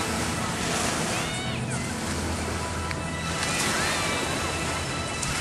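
Surf at Pattaya Beach, Thailand, a constant broad wash of waves rolling in alongside wind, with a faint whine of a passing boat or engine in the background.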